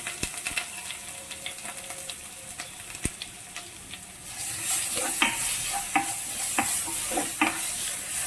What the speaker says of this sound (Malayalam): നമ്മൾ ചതച്ച് വെച്ചിരിക്കുന്ന ചേരുവകൾ ഇട്ട് കൊടുത്ത് ഇളക്കണം